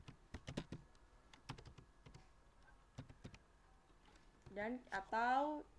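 Keystrokes on a computer keyboard tap out in quick irregular bursts, close and crisp, with a stretch of speech rising over the clicks near the end.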